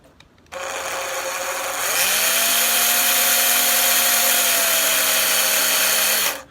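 A drill bores a hole into a Hawaiian ukulele's wooden body for a strap button, one steady whirring run of about six seconds that rises in pitch partway through, close and loud with no talk.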